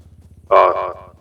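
A pet crow gives one harsh, drawn-out caw lasting about half a second, close and loud over a steady low engine-like rumble.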